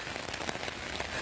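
Heavy rain pours down steadily as a dense, even hiss of drops drumming on surfaces, close and continuous with no voices.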